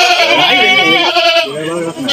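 Goats bleating on a goat farm, a loud, close, wavering cry that carries on through the whole stretch, with people talking alongside.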